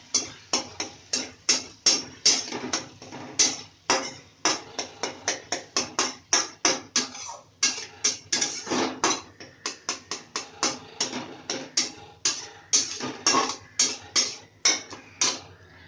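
Spoon scraping and knocking against a pan while mushroom, potato and capsicum curry with tomato puree is stirred, a steady run of quick close clacks and scrapes with no talk.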